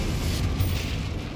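A Confringo fire blast spell in Hogwarts Legacy gives a sustained roaring, rumbling burst with no break, heavy in the low end, like a fiery eruption.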